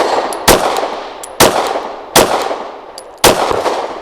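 Four loud, sharp pistol shots from a SAR 9C Gen 3 handgun crack out in quick succession at a shooting range, each followed by a short ringing decay.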